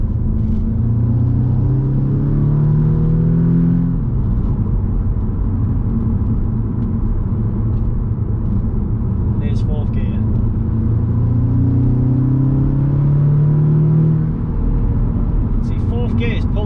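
An Audi S3 8V engine with a power problem pulls hard through third gear, with a rising turbo whine that climbs, drops at a shift, then climbs again; loud and close, mostly without talk.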